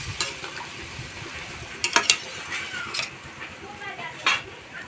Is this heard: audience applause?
no